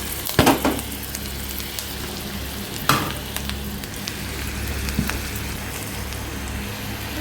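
Chopped garlic frying in butter in a pan for a mixed-lentil curry, a steady soft sizzle throughout with a few sharper stirring scrapes near the start and middle, close and alone without talk.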